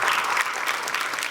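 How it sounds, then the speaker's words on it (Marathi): Dense, steady applause from a studio audience at a Marathi women's game-show gathering, loud and continuous for the whole moment without pause. "एकदा जोरदार टाळ्या तुमच्यासाठी होऊन जाऊ दे"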